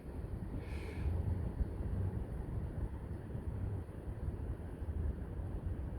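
Strong outdoor wind at an airgun shooting range, a steady low roaring rumble with gusty buffeting on the microphone that runs continuously and fairly loud throughout.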